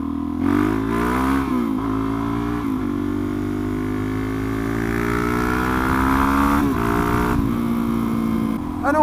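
A Suzuki DRZ motorcycle engine runs steadily while riding, its harmonic drone rising and falling through gear changes and throttle, loud and close throughout with wind noise.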